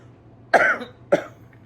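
Two sharp, close coughs about half a second apart, with quiet background between them.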